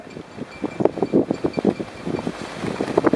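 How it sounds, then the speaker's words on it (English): Strong, gusty wind buffets the microphone on a cold mountain morning at Perisher in the Australian Alps, a rough, uneven roar that swells and fades in short bursts with no voices. "It's a very windy morning to start our walk to Dargo"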